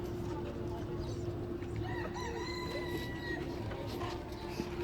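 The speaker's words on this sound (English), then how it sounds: "Found chickens." Chickens clucking and a rooster crowing at a safari park, over a steady loud background hum with a few thin, drawn-out calls.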